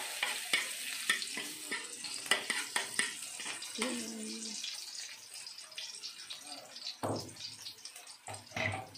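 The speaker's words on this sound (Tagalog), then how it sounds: "mainit na yung mantika. Ilagay na natin yung bawang." Garlic dropped into hot cooking oil for pancit, with crackling sizzle and frying hiss, stirring clatter and a few sharp utensil knocks, close and fairly loud, with brief faint voice.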